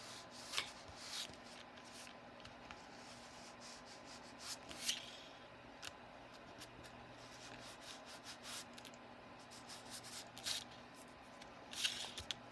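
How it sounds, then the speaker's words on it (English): An ink pad rubbed back and forth across an embossed card gives soft, dry scuffing strokes, quiet and close, coming in short bursts with pauses between them. "I'm going to try to make sure my ink pad is flat, and I'm just going to rub it across here."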